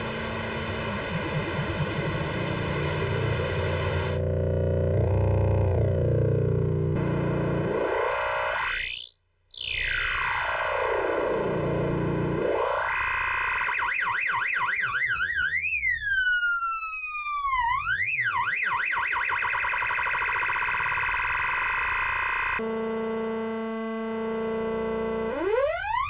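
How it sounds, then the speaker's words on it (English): A Donner Essential L1 analog synth drone plays buzzy sustained tones that sweep up and down, dipping into a sharp filter swoop, then warbling pitch bends and a pulsing tremolo section, loud and continuous with no speech. "So the drone just plays a note, so you can just kind of get some weird noises with it."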